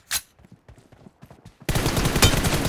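Game gunfire from a first-person shooter: after a sharp opening crack and a sparse run of faint clicks and taps, a dense, loud burst of rapid shots fills the second half, close and continuous.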